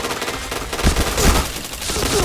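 Rapid bursts of gunfire ring out in a shooter video game, with a dense chatter of shots and louder clusters of reports, while game announcer callouts sound over the action.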